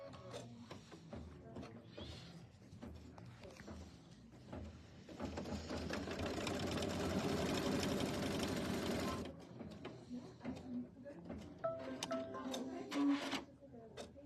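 A sewing machine runs a quilting stitch on a Kimberbell Quilting Through the Seasons project, a steady close mechanical whir for several seconds, with talk and handling sounds before and after.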